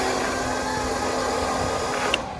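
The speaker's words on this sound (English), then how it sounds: "prime some oil through the engine" A steady electric whine and hum from an engine oil priming pump on a Husqvarna jet-powered mower drones evenly throughout, close by, with a faint click near the end.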